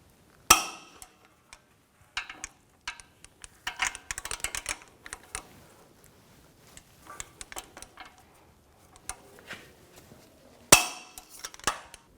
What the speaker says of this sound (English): Now I'm going to torque these bolts to 148 foot-pounds.